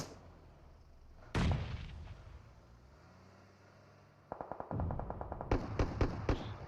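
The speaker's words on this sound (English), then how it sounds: "here comes a grenade from the K's" A grenade detonates during a competitive battle-royale esports grand final match, one sharp blast followed later by a burst of rapid gunfire and several loud cracks.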